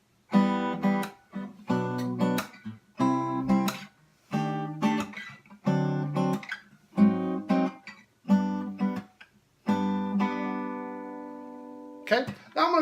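Fingerpicked chord progression played as a variation on acoustic guitar, clear and close, with a steady sequence of plucked chords each ringing briefly, the last chord sustained and decaying before a short strum.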